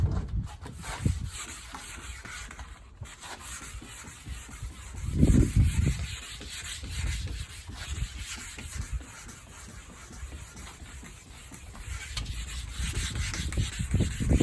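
Wet sanding on the body of a 1984 Corvette, with plenty of water: a steady, rough rubbing scrape in repeated back-and-forth strokes, close and continuous, with one louder burst midway.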